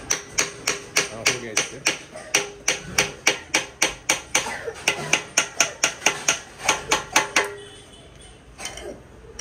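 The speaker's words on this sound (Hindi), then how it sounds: "हथौड़ी यूज़ करना पड़ेगा इसके लिए" Rapid metallic hammer blows on a motorcycle exhaust chamber from an RX100, about two dozen sharp ringing strikes in a steady rhythm, close and loud, before the blows stop near the end.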